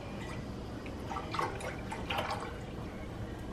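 Milk is poured into a pot of water on the stove while making cinnamon hot chocolate, a soft liquid trickle and splash rising in two short bursts over quiet background noise.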